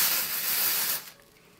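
Dry shampoo sprayed from an aerosol can onto greasy, flat hair, one close, loud hissing burst lasting about a second that cuts off sharply and leaves only faint room noise.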